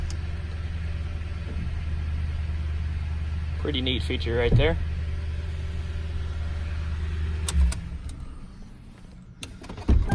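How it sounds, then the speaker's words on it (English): The power rear glass of a 2012 Toyota Tundra CrewMax 5.7L V8 4x4 lowers with a steady motor whir over the low rumble of the idling engine, ending with a soft clunk, while someone talks briefly. "In this truck, the entire glass goes down."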